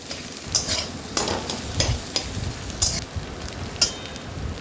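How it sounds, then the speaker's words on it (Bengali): Egg frying in a pan for fried rice, seasoned with salt, turmeric and black pepper: steady sizzle broken by repeated scraping stirs of a utensil against the pan, close and clear with no talking. "ভালো করে ফ্রাই করবো গাইস"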